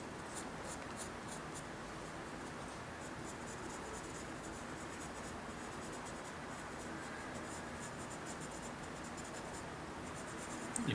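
Pencil sketching a pine tree on paper for a landscape drawing, a faint, continuous scratchy rasp of graphite with quick back-and-forth strokes, close and quiet, without any speech.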